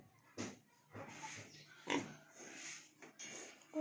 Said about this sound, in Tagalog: Gutom ng mga baboy.